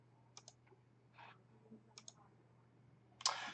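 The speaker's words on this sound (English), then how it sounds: "So let's get on with it and click for the menu." Sharp mouse clicks on a computer, opening a menu, come as a few quick pairs of faint ticks against a steady low hum in a quiet room.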